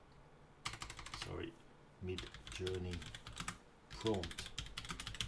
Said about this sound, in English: So for instance, if I type mid-journey